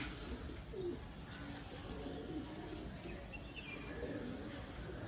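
Pigeon chicks among a loft of pigeons, with soft cooing calls recurring faintly against steady background noise and no talk.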